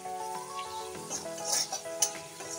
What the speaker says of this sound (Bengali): ক্যাপসিকামটা দিয়ে ভালো করে ভেজে নিতে হবে।